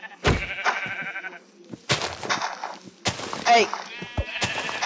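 Sheep bleating in the video game Minecraft, several short cries in sequence, with a voice shouting between them.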